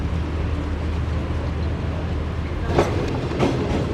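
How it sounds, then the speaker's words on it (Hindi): The 28 Down Shalimar Express runs along the rails in a loud, steady rumble with faint clickety-clack joint beats late on, heard from on board and without any talk. "ट्रेन हमारी उड़ती हुई जा रही है इस वक्त सांगला हिल जंक्शन रेलवे स्टेशन की तरफ"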